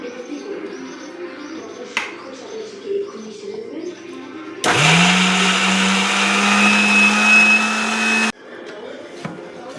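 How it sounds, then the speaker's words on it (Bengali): Kitchen mixer grinder whirring loudly as it blends green peas into a paste, starting abruptly after a quiet stretch of faint household noise and cooing pigeons, running steadily for about four seconds, then cutting off. "এবার আমি এটা কড়াইশুঁটিটা মিক্সারে ঢেলে দিই।"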